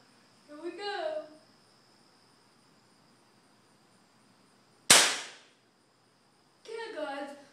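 A BB gun fires one sharp, loud shot at a gun stock, a single crisp crack between two short stretches of talk.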